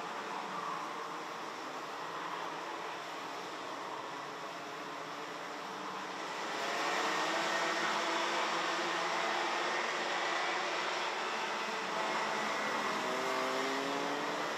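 A pack of 34 racing karts circulating around the track at Karting Genk during a Junior MAX final. A faint, distant, continuous engine drone swells slightly louder midway.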